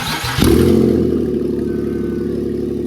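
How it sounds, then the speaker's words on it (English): A Ford Coyote engine in an F150 pickup catches on the starter with a sudden loud burst, then settles into a steady, rumbling idle close by, with no voices. "Let's see if it cranks."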